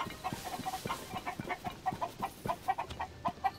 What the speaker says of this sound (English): the chickens really are nesting far away